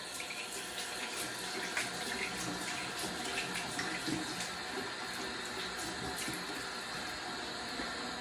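Tap water runs steadily into a sink before a wet shave, a constant close splashing stream lasting throughout with no talk.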